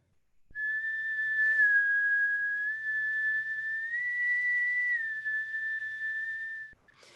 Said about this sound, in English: go ahead and do this little whistling pattern with me. I'll demo here